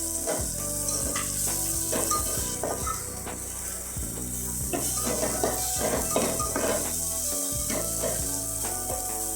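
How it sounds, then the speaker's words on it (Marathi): Loud, close sizzling from a hot pan as homemade chutney goes in for toor dal amti, with repeated metallic scraping and clanking of a spatula stirring, and no voices. "आता आपण याच्यामध्ये आमची घरगुती चटणी येईल ती टाकून घेते"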